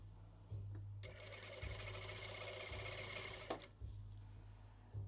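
A sewing machine stitches along the bottom edge of a curtain in one steady, close run of rapid whirring lasting a few seconds, framed by quieter low hum before and after.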